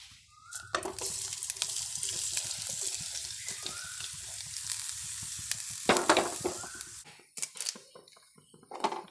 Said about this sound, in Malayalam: ഇഞ്ചി ഒന്ന് വറുത്തെടുക്കാം.